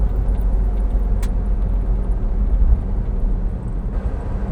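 A Honda S660 car drives along Route 477 near Kameoka, a steady low engine and road drone heard from inside the cabin with tyre noise and no talk.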